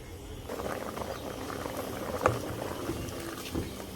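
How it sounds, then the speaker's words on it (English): Yellow split peas boil in a covered pot with a steady, low bubbling rumble, close and moderately quiet, with a couple of small knocks. "I'm going to cover this down and let it boil."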